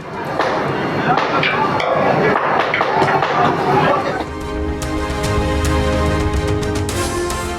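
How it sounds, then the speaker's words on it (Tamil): Repeated sharp hammer blows and clanks as railway workers break a concrete platform, fairly loud, mixed with crowd noise and background voices; after a few seconds, a steady engine-like drone continues. "ரயிலை நிறுத்தி நடைமேடையை உடைத்த ரயில்வே ஊழியர்கள்."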